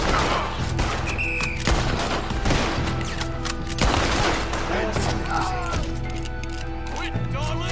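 Continuous gunfire in the video game Red Dead Redemption 2: dense volleys of shots and cracks under shouted voices, busy and loud throughout.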